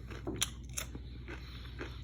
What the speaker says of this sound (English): if you hear me crunching, my wife likes her French fries very crispy